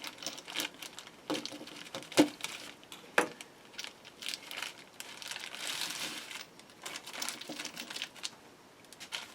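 Dovetail jaws of a Nova 3G wood lathe chuck are wiped down with a rag, giving close, quiet crinkling and rubbing strokes with a few sharp clicks of metal.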